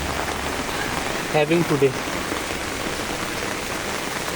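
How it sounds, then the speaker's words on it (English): Heavy rain in Bangalore falls around a building terrace as a dense, steady hiss that fills the whole stretch, while someone speaks briefly partway through. "rain has been very heavy in Bangalore"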